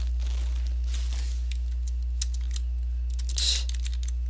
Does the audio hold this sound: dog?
no